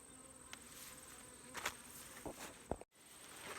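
Faint, steady buzzing of many honey bees close by around their hive, with a few soft clicks and knocks scattered through.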